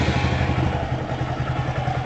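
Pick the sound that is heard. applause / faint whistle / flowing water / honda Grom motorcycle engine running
honda Grom motorcycle engine running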